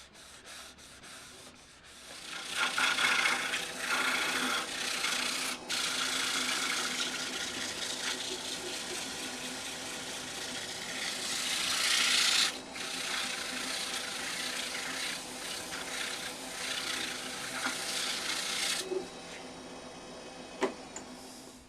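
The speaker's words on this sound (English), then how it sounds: "now it's wood wax 22 and a bit of a buff to give it some shine" Buffing an oak coin bowl with wood wax on a lathe, a steady close rubbing hiss that runs continuously with slight swells and a brief break, no talk.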